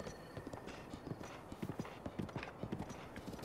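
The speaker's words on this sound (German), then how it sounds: "Es ist wirklich schwer, das Pferd durch enge Kurven zu reiten, wenn es zu schnell geht." Horse hooves clip-clop in The Legend of Zelda: Breath of the Wild as a horse is ridden at speed, a fast, continuous string of soft rhythmic thuds over a faint ambient bed.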